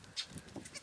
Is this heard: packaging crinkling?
no